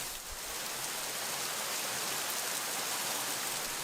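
Torrential rain pours steadily outside a woodworking workshop, a dense, unbroken hiss of heavy downpour that stays loud and even throughout with no voices.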